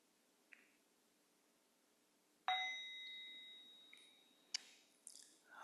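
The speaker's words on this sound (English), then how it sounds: "We'll begin with 3 sounds of the bell." A meditation bell rings, one clear struck tone with a long fading sustain followed by a couple more softer strikes and clinks in an otherwise quiet room.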